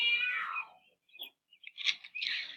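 A cat meows a few times, a drawn-out cry followed by shorter, higher mews, fairly close with quiet gaps between.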